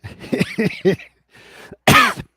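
A few short, close coughs in quick succession, then a pause and one louder, harsher cough.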